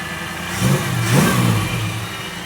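A 1987 Chevrolet Monte Carlo SS engine idles close by. Its note swells briefly in a short rev midway, then settles back to a steady rumble.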